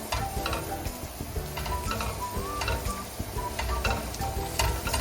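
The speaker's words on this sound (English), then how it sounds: "Then once your pan is heated up, you add your onions to it. I put in my paste and stir it." Onions and paste sizzle steadily in hot oil in a pan for a Ghanaian dish, with a utensil scraping and ticking against the pan as it is stirred, close and continuous.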